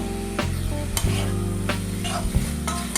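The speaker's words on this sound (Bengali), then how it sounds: "যতক্ষণ না মশলা থেকে একটা তেল ছাড়ছে ততক্ষণ কষিয়ে যাব।" Masala for a crab curry is stirred and fried in hot oil until the oil separates, giving a steady close sizzle with repeated scraping strokes of the spoon throughout.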